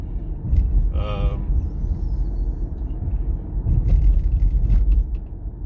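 A Ford car driving on a road trip from Batesville to Delaware, Indiana, with a continuous low engine and road rumble heard from inside the cabin, and someone talking over it.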